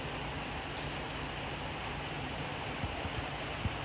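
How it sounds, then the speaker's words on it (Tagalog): Steady, even hiss of summer rain falling in Madrid, with a few faint drips and taps standing out near the end. "Oh, summer na pero umulan."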